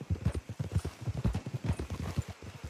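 Horse hooves clip-clop in a steady, brisk rhythm in the Red Dead Redemption 2 video game, close and clear, with several horses moving together on a road and no talking.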